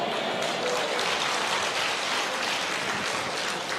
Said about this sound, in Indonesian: Nggak usah tepuk tangan.